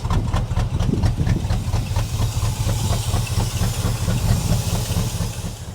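An old Chevrolet squarebody plow truck, long left sitting, runs rough with an uneven, lumpy idle, a continuous throbbing engine pulse mixed with hiss and knocking, close and steady throughout.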